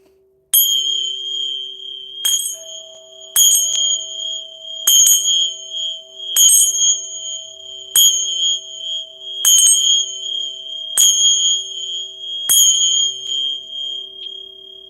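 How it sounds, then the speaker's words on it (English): Temple bell chimes ring out one after another, about ten bright metallic strikes at uneven intervals, each leaving a long sustained tone that hangs between hits, close and clear with no talking. "I love these temple bells"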